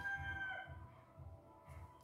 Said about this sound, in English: don't mind the chickens